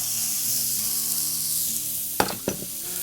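Onions frying on a griddle in bacon fat give a steady close sizzle, with two brief sharp scrapes from a utensil near the end.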